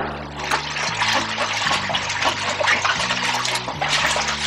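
A bowl is scrubbed and rinsed under running water while cleaning equipment for incubating giant gourami eggs; water splashes and trickles steadily and close by, with soft rubbing and clinking throughout.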